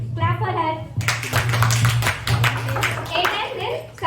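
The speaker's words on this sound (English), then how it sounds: "Clap for her." A class of students claps for a classmate, a burst of brisk clapping that starts suddenly after a brief spoken word and continues under a voice and other chatter in the room.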